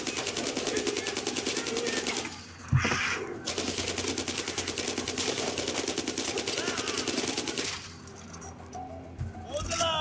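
Sustained automatic gunfire in Far Cry 4 while hunting an animal, a rapid steady rattle with a short pause, mid-level and constant over game ambience.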